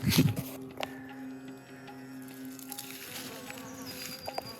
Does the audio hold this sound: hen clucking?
no